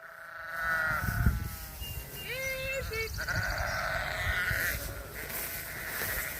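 Several sheep bleat in a field while being moved on a farm, overlapping wavering calls that start after a moment and carry on over outdoor background noise, moderately loud and close.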